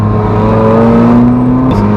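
A loud, steady car engine drones close by just after a cold start, its pitch slowly rising as it revs, then dipping briefly near the end.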